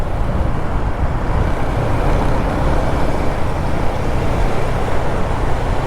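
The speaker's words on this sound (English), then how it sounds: "But it's like medium traffic." Moderate night traffic in Ho Chi Minh City: a continuous, even roar of passing engines and road noise, close and steady throughout with no breaks.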